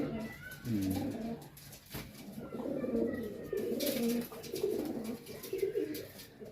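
White pigeons kept by a high-flyer breeder coo in soft, repeated throaty bursts, fairly faint and close, with a brief quiet gap between calls and no speech.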